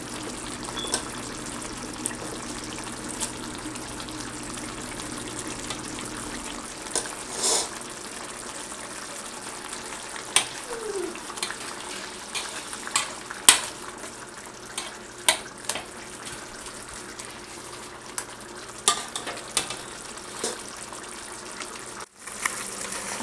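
Rice and shrimp are added to a frying pan and stirred, producing a steady sizzling hiss with scattered scraping and clicking from the utensil, close by and continuous.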